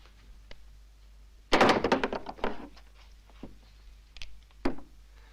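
A pistol thrown down and landing on the ground in a Western standoff, a loud clattering thunk with a few quick follow-up knocks, then quieter bumps after a pause.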